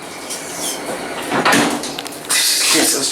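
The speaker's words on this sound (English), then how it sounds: "Watch these doors close." Doors of a Dover traction elevator, modernized by Bagby, sliding shut quickly in a building, a short whooshing slide ending in a brighter rush of noise, close by, with a bit of background voice.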